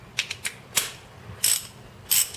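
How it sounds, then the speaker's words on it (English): A half-inch drive ratchet wrench clicks in several short, sharp bursts while a bolt on a Honda Prelude suspension is loosened, close and clear with no talking. "This is my 1/2 inch drive wrench."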